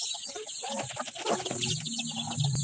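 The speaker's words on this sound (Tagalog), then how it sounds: "pati manok namin, nakikiagaw na ang mga alaga namin" Backyard chickens cluck and squabble close by while grabbing at pineapple peel scraps, a busy overlapping run of short clucks under a steady high-pitched background whine.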